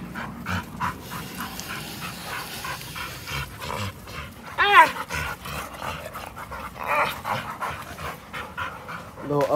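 Dogs pant in summer heat in a backyard, a steady breathy rhythm close by, with brief whimpers and a yelp midway and a person talking over much of it.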